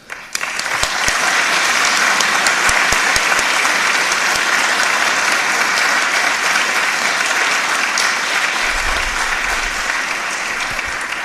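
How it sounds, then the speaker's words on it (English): Sustained audience applause for the interpreters at a democracy school session, a dense, loud wash of clapping from a large crowd that swells quickly and holds steady for about ten seconds. "we'll ask you a big applause for them"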